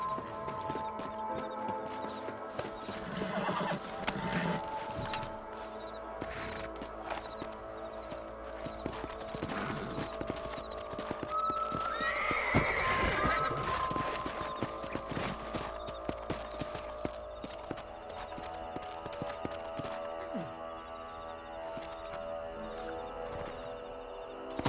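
Horses clip-clopping at a steady walk in the Red Dead Redemption video game, hooves tapping along under ambient game sound, with a brief whinny or animal call rising midway.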